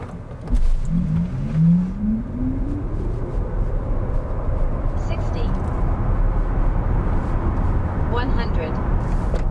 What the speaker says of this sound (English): Now let's accelerate the Id.7 Pro Tourer.